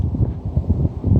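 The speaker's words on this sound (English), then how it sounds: "It is a very windy day today" Gusty wind buffets the microphone in low, uneven rumbling surges, fairly loud and steady throughout with no voices.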